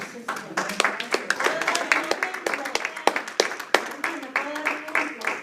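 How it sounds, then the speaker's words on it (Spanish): A church congregation claps along during a Spanish-language service, a steady run of sharp, uneven hand claps spread through the room, with voices mixed in underneath. "¿Cuántos dan un aplauso al Señor?"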